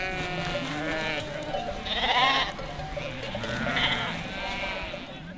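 Several sheep bleat in overlapping, wavering calls at close range while being fed salt on a highland pasture, the cries rising and swelling in two louder bursts amid a steady flock murmur.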